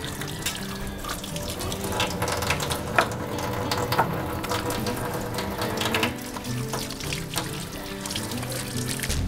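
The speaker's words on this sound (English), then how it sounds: "let's wash our hands" Hands are washed under a running kitchen tap, with steady close splashing into the sink and occasional clatters and knocks.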